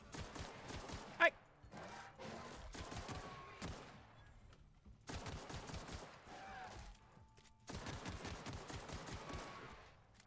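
Bursts of rapid gunfire from the video game The Outer Worlds, clattering volleys spread through the stretch with brief gaps, a voice speaking over parts of it.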